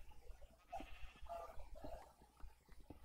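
In a video game, sheep give several brief wavering bleats, faint and somewhat distant, scattered over a soft background of clicks and low rumble.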